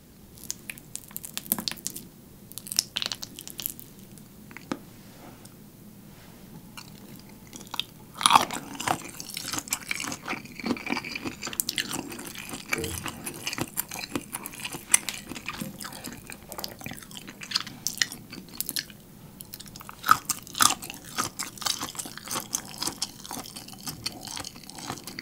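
Close, crisp chewing and biting on a shrimp-loaded carbonara made creamy with mozzarella cheese, with wet squishy mouthfuls and crunchy bites coming in irregular bursts against a quiet background.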